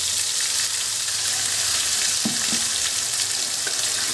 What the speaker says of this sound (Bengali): পেস্ট করে নেওয়া পেঁয়াজ, আদা, রসুন, টমেটো, ধনেপাতা, কাঁচা লঙ্কা সমস্ত পেস্টটাই তেলের মধ্যে দিয়ে দেবো